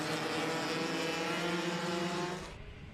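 Formula K racing karts with Rotax engines run through switchbacks at a Western Australian kart championship, a distant buzzing engine drone that holds steady then fades as they pull away.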